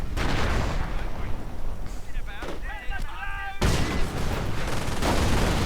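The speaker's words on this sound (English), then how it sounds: "Panzercheck rocket doing terrible damage to the 17-pounder gun" Panzerschreck rockets fire and strike a 17-pounder anti-tank gun in a World War II strategy game, a dense run of loud blasts and gunfire with a brief lull midway, then heavy explosions resuming, with a voice over the battle.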